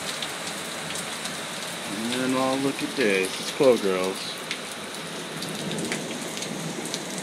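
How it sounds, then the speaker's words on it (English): Heavy summer rain pours steadily on surfaces with faint distant thunder rumbling underneath, while a person talks briefly over the downpour. "look at all the rain. All this rain."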